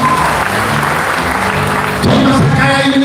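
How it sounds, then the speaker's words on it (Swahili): A large gathering at a memorial service breaks into loud, sustained applause. The dense clapping fills the whole stretch with a rising swell near the end. "makofi mazuri"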